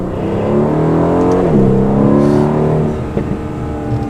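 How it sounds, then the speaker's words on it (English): A 2019 Aston Martin DB11 V8 accelerates from first gear onto a highway at moderate throttle, its engine note climbing loudly, dropping briefly at a gear change, then rising again. "So do a small acceleration getting onto the highway from first gear."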